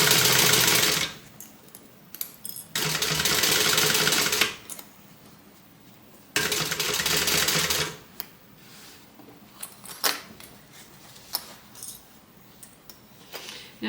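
A Simply Classic sewing machine, the Madge by American Stitchers, stitches a curved gusset seam in loud bursts of motor whir separated by pauses and small clicks of handling.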